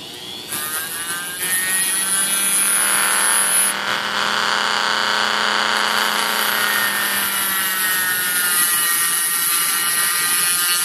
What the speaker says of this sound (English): I got to cut it off because I don't want to deal with it anymore.